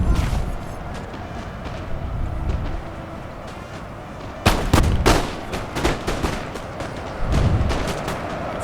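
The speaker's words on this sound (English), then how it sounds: "This poor musketeer unit getting shot in the back." Musket volleys in the Napoleon: Total War battle at Waterloo, sharp loud cracks and bursts of rifle fire popping over a rumbling battlefield din, some shots clustered closely together and others spaced farther apart.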